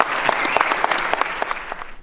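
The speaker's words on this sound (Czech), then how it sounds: "Velký potlesk." Sustained applause from an audience at a Czech football club's awards evening, honouring a player; dense, steady clapping fills the short stretch without a break.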